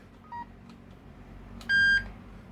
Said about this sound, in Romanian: Și de aici schimb Roger Bip-urile.